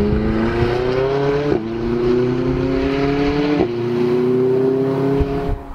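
McLaren 570S Spider sports car with the roof up, engine droning steadily as it accelerates through two gear changes, rising pitch then dropping at each shift, close and loud inside the cabin with no talking.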